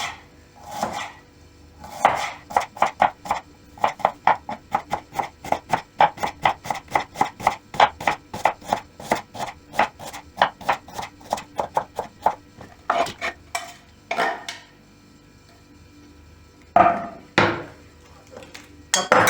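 A knife chops rapidly and steadily on a cutting board, cutting vegetables into thin strips, a long run of quick crisp taps with a few brief pauses, close by and alone.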